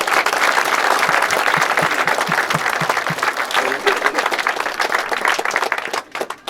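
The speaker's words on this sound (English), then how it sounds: "So fair play to Newcastle, and a round of applause." A crowd at a Limerick Desmond League Cup final applauds the Newcastle team, sustained loud clapping filling the whole stretch before tailing off at the end.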